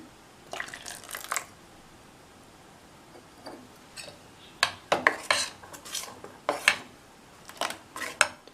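A spoon scrapes and clinks against a bowl in uneven bursts, thick dosa batter being stirred with added water close by, with short pauses between strokes.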